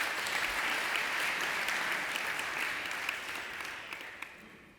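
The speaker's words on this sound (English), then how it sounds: "I think a round of applause would be a good idea." Conference audience applauding after a fireside chat, a dense even wash of clapping that gradually fades out over a few seconds.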